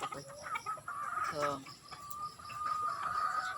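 Chickens clucking close by outdoors near a house, a few short clucks and a brief squawk over steady background noise, with a person speaking briefly.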